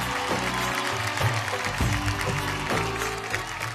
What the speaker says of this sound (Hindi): जोरदार तालियां हो जाए सुपर मॉम सिमरत और डांस गुरु कुमार के लिए।